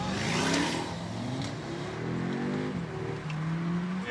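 An Audi RS6 engine revs hard while driving in a convoy in sub-zero cold, a rising and falling roar heard from nearby under steady road and wind noise.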